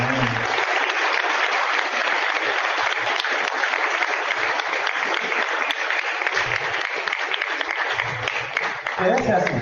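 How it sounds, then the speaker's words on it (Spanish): A standing church congregation claps in praise during a sermon on mercy, a full, steady wash of many hands that holds for several seconds. Faint voices and cheers rise beneath it toward the end. "Tiene un aplauso al Señor por eso."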